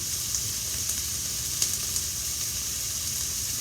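Onions frying in a pan for squash and bean soup, a steady close sizzle and crackle with the heat turned down, occasional small pops and a faint stir, no talking.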